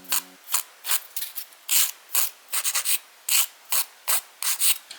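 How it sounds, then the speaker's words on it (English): Hand file rasping along the edges of press-on nails to smooth away small tabs, a series of short, brisk scratchy strokes in an uneven rhythm, close and fairly quiet. "I'm going to use my hand file to remove these little tabs that come on the nail and just to smooth out the edges."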